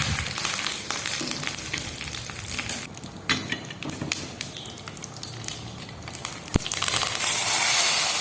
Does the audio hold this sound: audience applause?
no